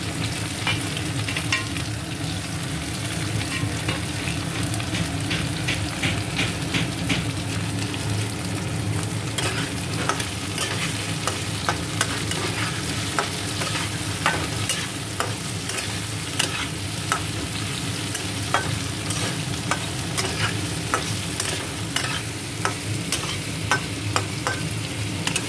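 Potatoes fry with ginger paste and chopped tomato, a dense sizzle broken by rapid, repeated scraping and stirring strokes against the pan, close and sustained throughout without speech.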